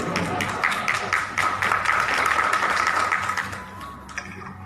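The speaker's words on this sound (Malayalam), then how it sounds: "ആ അക്ഷരസ്ഫുടയ്ക്ക് ഒരു കൈയടി കൂടെ കൊടുക്കണം." A room of people applauds a five-year-old child, steady clapping that holds for several seconds at moderate loudness before tapering off, with no talking over it.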